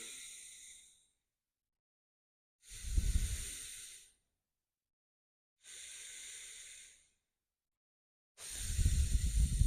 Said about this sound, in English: I just want to take a couple of deep breaths.